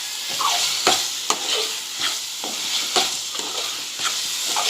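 Lentils tipped into frying masala in a pan and stirred, a steady close sizzle broken by repeated scraping strokes of the spoon roughly every second, with no talk.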